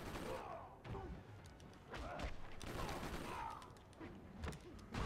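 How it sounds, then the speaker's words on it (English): Machine gun fire in the fighting game Injustice: Gods Among Us: quiet, rapid clusters of sharp gunshot bursts in several volleys, separated by brief lulls with thuds and clatter. "Ooh, machine gun."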